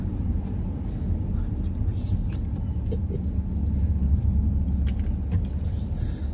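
Car cruising on a motorway at roughly 120 to 140 km/h, a steady low road rumble and engine drone filling the cabin, with a few faint clicks and rustles over it.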